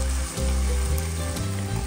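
Garlic sizzles in a hot pan with chicken as it is stirred, a loud, steady close crackle with faint scraping movement.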